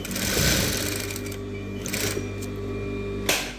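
A sewing machine running a few stitches, a loud, close, steady mechanical whir with a rhythmic needle clatter, ending in a sharp click as it stops.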